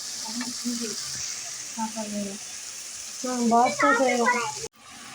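Onion, tomato, carrot and potato sautéing in a pan, a soft steady sizzle with a few light stirs, close by, while someone talks over it.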